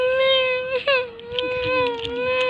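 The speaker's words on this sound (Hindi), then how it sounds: "उधर से कोई बच्ची की रोने की आवाज़ आ रही" A little girl cries after falling off a bicycle, a sustained wailing sob with a steady pitch, close and loud, breaking briefly partway through and then carrying on with whimpering breaths.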